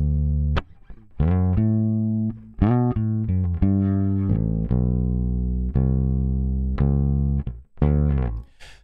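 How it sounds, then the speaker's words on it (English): An electric bass guitar fed straight into an audio interface with no EQ plays a sequence of clean, sustained notes and short phrases, loud and dry with distinct plucked attacks and no voice. "what you're going to hear now is the bass straight into my interface"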